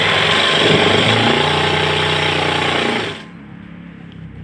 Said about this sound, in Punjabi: ਸਭ ਤੋਂ ਪਹਿਲਾਂ ਜੀ ਆਪਾਂ ਪੈਰ ਦੀ ਸਲਾਈ ਲਾਉਣੀ ਹੈ